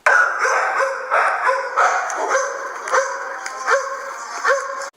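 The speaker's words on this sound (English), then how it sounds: "the dogs just started barking insanely loud" Several dogs bark and yip loudly and continuously, overlapping in a frantic chorus close at hand.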